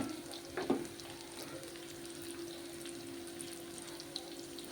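Chicken masala curry with chili powder and ground masala cooks in oil, giving a faint, steady sizzle and bubbling with a short clatter of stirring near the start.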